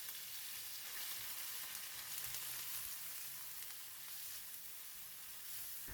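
Garlic and ginger paste sizzling in hot cooking oil for a dal curry, a continuous bright hiss with fine crackle, steady and close throughout, with no voices.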